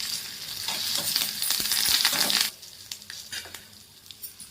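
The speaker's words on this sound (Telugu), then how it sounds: "ఇందులో మనం రెండు ఎండుమిరపకాయలండి ఎండుమిరపకాయలు రెండు కరివేపాకండి" Dried red chillies and curry leaves tempering in hot oil for buttermilk rasam, a loud spluttering sizzle that drops sharply to quieter crackles and scattered pops.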